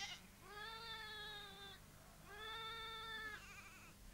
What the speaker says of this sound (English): The lamb's baa is fairly clearly a contact call between mother and offspring.